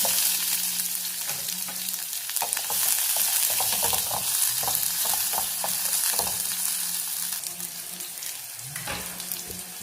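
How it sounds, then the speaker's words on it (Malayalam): Mustard seeds and shallots tempering in hot coconut oil for a Kerala-style curry, a close, loud sizzle with scattered pops and crackles and some stirring scrapes throughout. "വെളിച്ചെണ്ണയിൽ തന്നെ താളിക്കണം. കടുക് ചേർക്കാം. ചുവന്നുള്ളി ചേർക്കാം."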